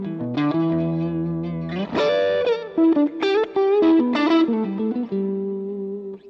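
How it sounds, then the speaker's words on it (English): An electric guitar runs through a tube screamer into a Vox amp with glitzy reverb, playing a chordal phrase of held chords and quick strummed changes, bright, driven and shimmering. "I know that I like the sound of a tube screamer into a Vox."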